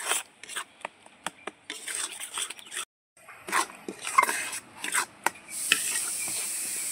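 Mango puree is stirred in a pan over low heat, with close scraping and rubbing strokes in an uneven rhythm, a brief pause, then a steadier soft sizzle.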